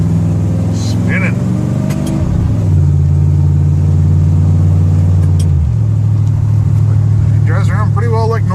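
A car fitted with a TCI 3000 rpm stall converter spins its wheels on a wet road, the engine roaring loud and close, its pitch climbing, dipping and holding steady, with a brief voice near the end.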